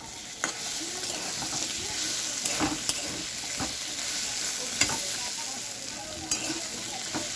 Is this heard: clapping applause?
no